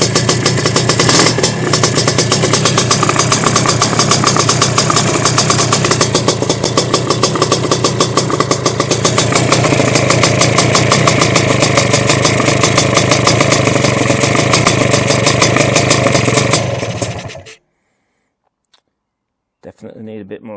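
A Sledgehammer 333 scooter engine runs loud and close at its first start, idling with a rapid, uneven two-stroke burble and a few revs, then cutting out abruptly near the end before a brief faint sputter.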